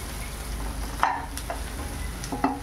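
Onion frying over high flame in a pan while making sev upma, a steady close sizzle with a couple of soft stirring scrapes, no voices.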